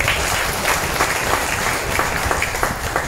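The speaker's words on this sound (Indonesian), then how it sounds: "Berikan aplaus lagi kepada" Crowd applause at a Gerindra party halal bihalal gathering in Jakarta, a steady wash of many hands clapping for the full few seconds with no talk over it.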